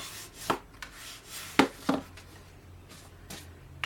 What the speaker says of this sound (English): for the front of the card, I'm going to give it a good crease